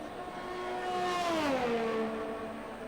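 Ferrari race car engine in an Xbox racing game at the Brazilian Grand Prix, a loud steady whine whose pitch rises and then swoops downward as the car shifts or passes, with no voices.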